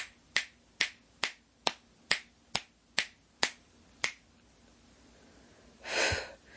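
Nine crisp finger snaps, done to clear energy, ring out close and evenly spaced about half a second apart in a quiet room, followed by a single loud breath.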